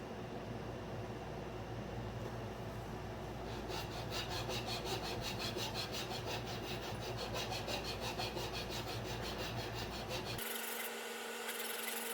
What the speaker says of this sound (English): it's time to move to the file or sandpaper to smooth out all the rough edges.